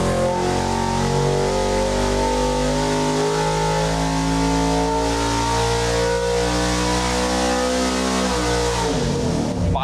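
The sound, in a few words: Ford Granada V8 engine revving on a dyno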